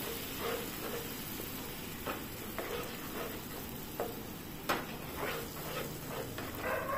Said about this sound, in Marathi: मसाल्याचा कच्चेपणा जाईपर्यंत हा मसाला भाजून घ्यायचा आहे आपल्याला